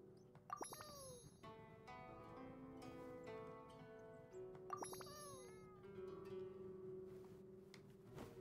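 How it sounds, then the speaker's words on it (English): Several cats meow repeatedly in Genshin Impact, the high, wavering cries arriving in clusters over soft game music and chiming tones, fairly close and clear with no talk. "Poor Venti having to pet all these cats"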